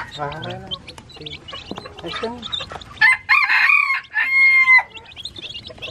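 Young wild junglefowl (labuyo) on a farm cluck softly, then give two loud, close crows, with people talking in the background.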